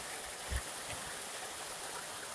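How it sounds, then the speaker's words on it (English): Steady rain hisses outside by a porch in an even, moderate wash, with a couple of soft low thumps and no voices. "I'm all outside on the porch right now, so it's raining."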